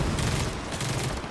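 Hammerburst rifle firing in Gears of War 4 team deathmatch, loud and close, a dense run of sharp gunshots and booms filling the whole moment with no talk.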